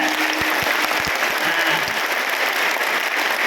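A crowd claps together at a devotional kirtan held for an akhand harinam saptah in Kari village, a dense, loud, continuous burst of applause filling the whole stretch, with a brief voice at the very start.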